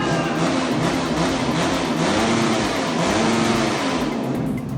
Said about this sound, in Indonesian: para saksi pun langsung memblayer motor-motor trail tersebut sebagai tanda sahnya pernikahan